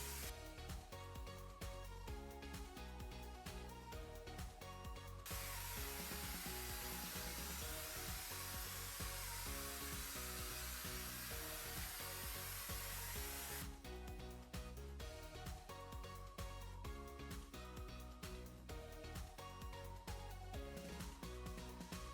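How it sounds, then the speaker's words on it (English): A steady, loud hiss of a paint sprayer applying a second coat to wooden garage doors runs for several seconds in the middle, with background music playing before and after and faintly beneath it. "I'm going to apply my second coat across the whole area using my paint spray."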